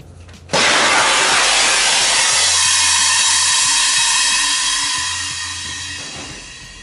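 A BCA Float avalanche airbag bursts open as its compressed-air canister fires, a sudden loud blast of rushing hiss that roars steadily for several seconds, then slowly tapers off, with no voices.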